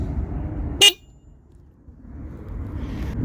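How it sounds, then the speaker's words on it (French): The original horn of a Dualtron Storm Limited electric scooter gives one short, sharp, loud beep over a low engine-like rumble that dips and then rises again. "le klaxon de la trotte d'origine"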